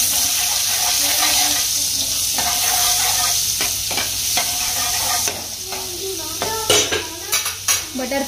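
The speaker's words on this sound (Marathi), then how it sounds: "फ्राईंग पॅन मध्ये ना तेल टाकलंय थोडं, आणि त्याच्यात बटर टाकलंय." Butter melting in oil in a home frying pan, with a steady sizzle and frying hiss, clinks of a stirring spoon against the pan, and louder metallic knocks near the end.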